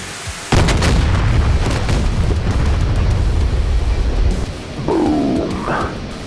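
A missile strikes a SAM site in the DCS World flight simulator, and a sudden loud blast opens into a heavy rumbling roar that sustains and slowly decays, with a brief tonal sweep near the end.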